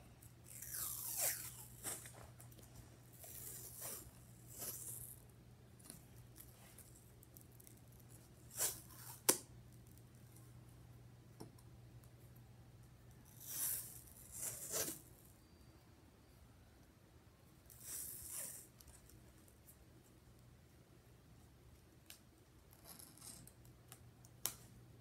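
Tape torn from a roll in several short, loud ripping bursts while being wrapped around a hockey stick, with quiet pauses between and no talking.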